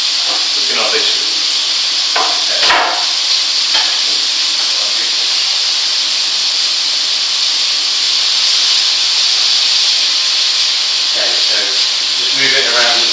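Lamb browning in a hotpot pan gives a steady, loud sizzle and hiss that runs the whole time, with a few soft stirring knocks and clatters over it.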